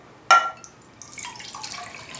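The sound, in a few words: cold water poured into Esbit aluminum cook pot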